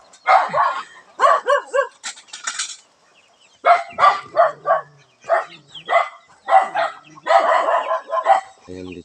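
Several dogs bark and yip in angry bursts at a rural home, loud and close, with short pauses between volleys and a brief clatter near the end.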